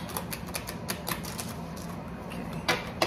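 A tarot card deck being shuffled by hand gives a rapid, irregular run of crisp papery riffles and flicks, close-up, ending with a sharper slap as the cards come together.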